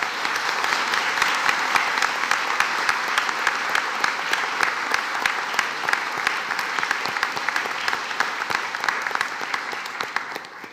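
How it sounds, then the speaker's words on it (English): An audience at a congressional district candidates forum gives a steady, sustained round of applause, dense, even clapping that holds for about ten seconds with no talking over it. "So what do you say we give these hardworking folks a round of applause?"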